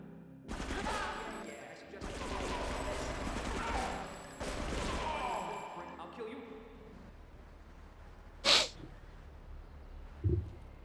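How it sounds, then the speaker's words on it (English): Rapid bursts of gunfire in GTA Frosted Winter, a Grand Theft Auto mod, crackle through the first half under a talking voice, then thin out to a few isolated sharp bangs near the end. "Stop shooting so hard."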